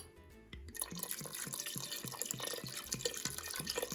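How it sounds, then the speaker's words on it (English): Water added to a pot of chopped potatoes, starting with a soft splash and settling into a steady stream of rapid bubbly plops, close and continuous. "I'm going to add just a little bit more water."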